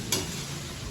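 Hot oil sizzles steadily as khichdi is tempered, with a brief louder crackling burst at the start followed by a close, even frying hiss.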